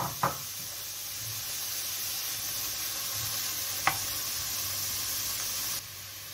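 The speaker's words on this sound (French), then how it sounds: "vous faites chauffer votre poêle sans matière grasse. Vous mettez vos girolles. Comme ça, elles vont rendre toute leur eau." Chanterelle mushrooms sizzle in a hot pan with no fat, giving a steady, close hiss that runs throughout, broken by a couple of sharp clicks from stirring.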